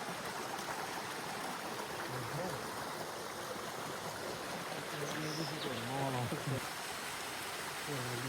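At the source of a waterfall gully, stream water makes a steady, hissing rush throughout, with a voice speaking faintly underneath partway through.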